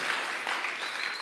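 Church congregation at an anniversary service claps together for God, a brief, steady burst of dense applause at moderate distance.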